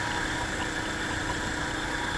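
A Royal Enfield Himalayan BS4 motorcycle riding over potholes, its engine giving a steady, dense mid-pitched drone with constant vibration and no breaks.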